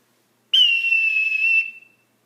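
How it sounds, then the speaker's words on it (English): One sharp, steady whistle blast lasting about a second, loud and alone in an otherwise silent background. "I have to yell and blow my whistle."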